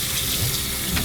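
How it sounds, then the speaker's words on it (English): Running tap water pours over a raw Thanksgiving turkey as it is rinsed in a sink, a brief, steady, close splashing rush with no speech. "So first I'm going to clean it by just rinsing it off."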